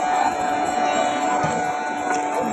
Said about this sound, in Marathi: हे मंदिर दामोदरचं मंदिर आणि खूप गर्दी आहे